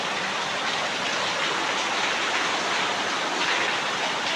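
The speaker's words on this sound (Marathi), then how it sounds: "हा पाऊस आहे ना." Rain falls in a constant, even roar, loud and close with no pauses.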